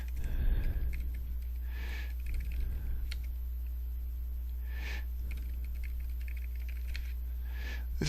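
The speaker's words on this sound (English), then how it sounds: "I will then type in my super secret ID." Keystrokes on a computer keyboard entering a login ID, a few quiet bursts of tapping spaced out over a steady low background hum, with no talking.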